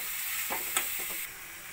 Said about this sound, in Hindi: ये हम अपनी पत्ता गोभी इसमें डाल रहे हैं और साथ में बीन्स। थोड़ा सा भून लेते हैं सबको।